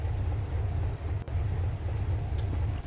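In the game Wolfenstein: The New Order, a parked car's engine idles with a steady, low rumble that holds through the whole stretch, close and even, with only a brief dip partway.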